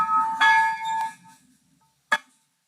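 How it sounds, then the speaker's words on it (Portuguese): A small bell rings a few times at a Jesuit monastery in Guaramiranga, Brazil, bright metallic tones ringing out, then a pause before one more sharp strike near the end. "Tocando o sino aí"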